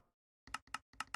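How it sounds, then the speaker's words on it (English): Quiet, sharp clicks from a computer keyboard as the R key is pressed during a Minecraft session: four crisp taps in quick succession after a brief near-silent pause. "keep pressing R and it keeps making a clicking sound"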